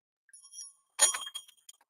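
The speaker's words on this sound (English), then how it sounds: "And I also brought bells." Small handheld bells ringing at an indoor gathering: a few light, scattered tings, then a brighter cluster of jingling strikes that decay into sparse faint dings, no voices.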